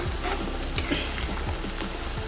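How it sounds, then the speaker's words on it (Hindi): Onions fry in a pan in a home kitchen while being browned for biryani, a dense close sizzle with scattered stirring scrapes and light utensil taps, no talking. "बस प्याज अच्छे से फ्राई हो जाए, एकदम बढ़िया से ब्राउन करने हैं"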